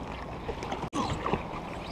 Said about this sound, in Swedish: Ja, nu kommer vågorna från färjan.